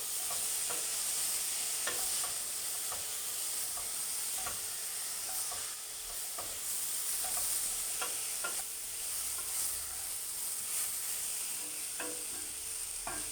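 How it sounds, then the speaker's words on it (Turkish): Purple cabbage stirred in a pan as it cooks, a steady close sizzle with repeated light scraping strokes of the spoon throughout, no voices. "pörsüyene kadar yaklaşık 5 dakika bu şekilde karıştırarak pişiriyoruz"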